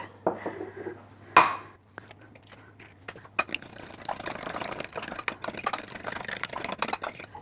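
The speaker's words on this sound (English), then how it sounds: "I do have to beat an egg" An egg for oatmeal cookie dough is beaten in a bowl with a fork, making rapid light tapping and scraping that runs for several seconds after a sharp clink, close by and fairly quiet.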